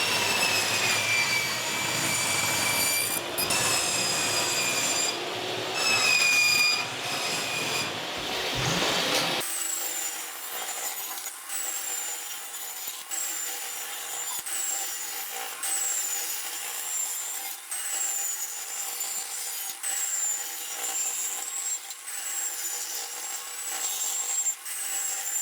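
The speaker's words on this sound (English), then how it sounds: "you want to rip this down into 2-inch strips so that you can actually template the floor" A sheet being ripped into 2-inch strips on a saw for tile floor templating, a loud continuous whining cut near the start that gives way to a steady, lower running hum with faint repeated ticks.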